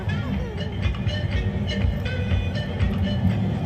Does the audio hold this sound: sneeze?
no